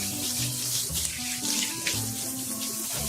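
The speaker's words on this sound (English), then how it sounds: "now I rinse the dog off" Running water pours and splashes steadily from a tap as a dog is rinsed off in a tub, a continuous close gushing with shifting splashes and no talking.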